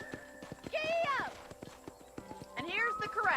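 Horse hooves clip-clop at a steady walking rhythm in the Red Dead Redemption video game, with whinnies rising above them and a voice talking over the hoofbeats.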